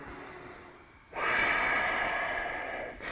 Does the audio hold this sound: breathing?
yes